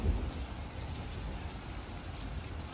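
Heavy rain pours outside while sheltering under a bridge on a bicycle trip in China, a steady, dense wash of noise that stays even and fairly close throughout, with no voices.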